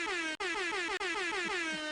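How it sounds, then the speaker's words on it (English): An air horn sound effect blares loud and sustained, cut by two brief gaps, then carries on unbroken to the end. "And then we also have an air horn."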